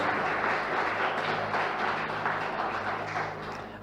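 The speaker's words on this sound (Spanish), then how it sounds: "Dar un fuerte aplauso al Señor." Church congregation applauding during a Spanish-language sermon, a steady wash of many hands clapping at close range that holds for several seconds and fades slightly at the end.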